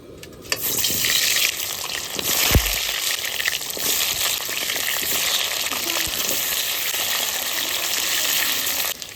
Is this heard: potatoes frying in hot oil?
yes